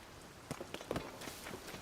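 Steady rain falls in the video game Zelda: Tears of the Kingdom, a faint, diffuse patter mixed with soft footstep-like taps, with no talking.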